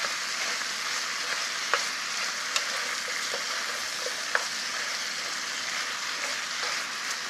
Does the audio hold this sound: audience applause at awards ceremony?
no